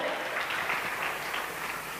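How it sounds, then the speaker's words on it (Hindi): A crowd at a women's sales-training event gives enthusiastic applause, a fairly soft, continuous patter of clapping lasting the whole brief moment. "हमारे विकास मागुरु जी के लिए जोरदार तालियां दोस्तों"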